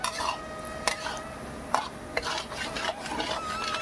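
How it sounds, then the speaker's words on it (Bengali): A spoon scrapes and stirs potatoes sautéing in a pan for a Bengali prawn curry. Several sharp, distinct strokes sound over a quiet, steady sizzle, with no voices. "দেখুন ভালো করে একটু কষিয়ে নিচ্ছি"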